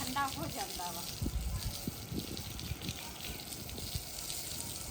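Outdoors in a village in the evening, water is splashed and sprinkled over the ground, making a steady wet gushing and pattering. Someone talks over it throughout.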